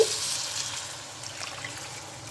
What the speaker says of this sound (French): Donc je viens verser la moitié du bouillon d'un coup.